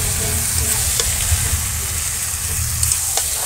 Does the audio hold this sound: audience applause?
no